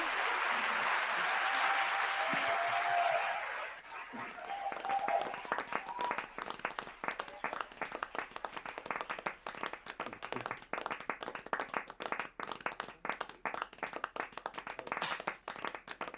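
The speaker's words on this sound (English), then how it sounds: "Let's give them a round of applause" An audience at a startup pitch event breaks into a round of applause after a presentation, starting as a dense roar and thinning into distinct, rapid individual claps that continue steadily to the end.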